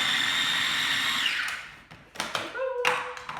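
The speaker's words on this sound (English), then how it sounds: "I'm just going to whiz it up just because it's quicker and it saves me a job." A kitchen blender whizzes up fresh ginger and other ingredients for a Jamaican sweet potato curry, a loud steady whine that winds down, followed by clattering and tapping as the jug is handled.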